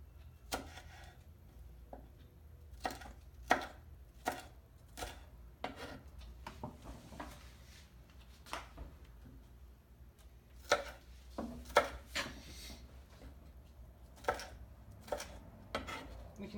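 A knife cuts ingredients for shrimp ceviche on a board, making sharp, irregular chops and taps close by with quiet pauses between them and no talking.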